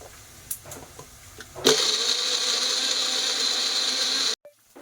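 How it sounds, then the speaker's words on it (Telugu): A mixer grinder whirs loudly as it grinds cut tomatoes into paste for mutton keema fry, starting abruptly after a few soft clicks and handling sounds, running steadily for nearly three seconds, then cutting off. "2 టొమాటోస్ అండి మంచిగా కట్ చేసి మిక్సర్లో వేసి గ్రైండ్"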